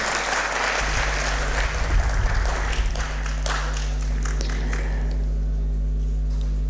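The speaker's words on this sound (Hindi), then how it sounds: "तालियों की गड़गड़ाहट के साथ हम कार्यक्रम को आगे बढ़ाते हैं" Audience applause at a Sanskrit film festival talk show, a dense, steady burst of many hands clapping that fills the whole stretch, with a low room hum underneath and no talking.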